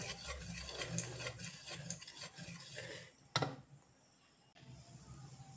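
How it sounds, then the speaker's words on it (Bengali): Milk cake batter for an eggless cake being whisked steadily in one direction, a continuous close scraping and stirring rasp that stops partway with a sharp clink, then quieter rubbing. "এবার খুব সুন্দর করে ফেটিয়ে নেব অন্তত 10 থেকে 15 মিনিট একদিকেই কিন্তু ঘোরাতে হবে"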